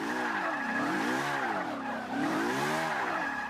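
A car drifts with sustained tire squeal that rises and falls in wavering sweeps over a steady engine drone. The sound stays loud and close throughout, with no talk.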